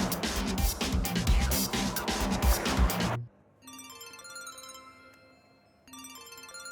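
A mobile phone rings with a repeating electronic tune, starting suddenly after a stretch of loud music and continuing fairly clearly with a short pause between bursts.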